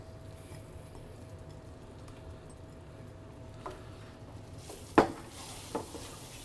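Two medium Spanish onions tipped into a white roux in a skillet, bringing a soft sizzle under steady frying hiss and a sharp clink of utensil against the pan.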